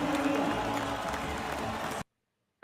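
A sports arena crowd at a Mavericks basketball game cheers and applauds in a broad, distant roar that holds steady, then cuts off abruptly.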